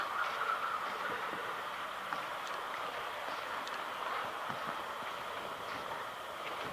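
Model DC locomotives run on a layout track, noisy because they need grease, giving a quiet, steady rolling rumble and whir with faint metallic clicks throughout.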